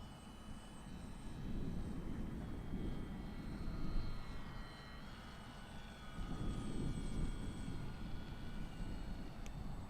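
E-flite UMX Air Tractor, a small radio-controlled model plane, flying a wide pattern outdoors; a steady whining motor drone with rising and falling swells as it passes, fairly distant and continuous, with no talking.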